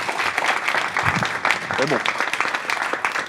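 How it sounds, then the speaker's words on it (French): Audience clapping for performers on a live French show, moderate steady applause with voices talking briefly over it. "On peut les applaudir bien fort."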